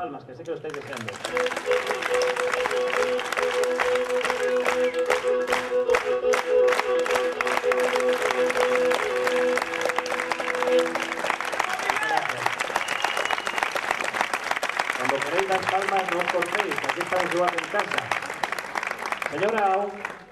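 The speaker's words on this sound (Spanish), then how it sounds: "Las palmas, que sé que lo estáis deseando." An audience claps rhythmically and steadily at a village gathering in Spain, loud and sustained for about twenty seconds, with voices and singing partly over it.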